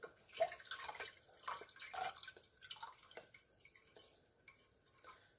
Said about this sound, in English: Just squeezing out as much of the liquid as possible.